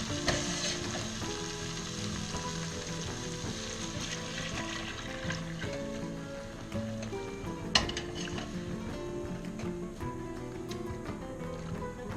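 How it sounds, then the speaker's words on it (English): Beef broth added to a pan of frying onions for French onion soup, a dense continuous sizzle and bubbling with a few utensil clinks, close and steady with no talk. "Okay, now we're going to add our beef broth."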